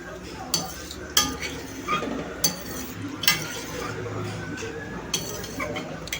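A spoon stirs tempering into dal palak in a pot, with clinks and scrapes against the metal at irregular intervals under a steady background hiss and occasional voice.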